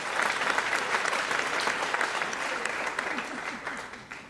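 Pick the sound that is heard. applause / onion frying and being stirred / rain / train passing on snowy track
applause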